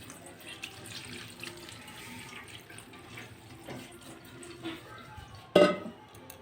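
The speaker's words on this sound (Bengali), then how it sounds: "এখন অল্প অল্প ঠান্ডা জল দিয়ে এভাবে অল্প ধুয়ে নেব" Cold tap water runs steadily over boiled chowmein noodles in a strainer at a kitchen sink, a soft continuous rinse with a brief louder splash near the end.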